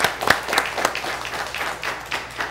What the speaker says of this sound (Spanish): Un aplauso realmente a todos los presentes.